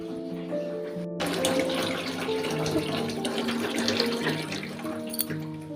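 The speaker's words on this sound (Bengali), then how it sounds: "হাড়ি ভরে গেছে জল।" A pot being filled with water from a tap, a steady rushing pour running continuously throughout with faint background hum and no talk.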